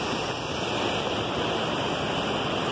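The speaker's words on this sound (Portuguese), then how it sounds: "essa aqui é a cascata" A waterfall cascade running with low water flow gives off a steady broadband rush of falling water. It sounds fairly near and even, with no talk over it.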